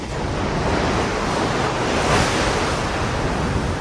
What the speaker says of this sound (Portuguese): O navio logo é sacudido por fortes ondas causadas por uma grande perturbação ciclônica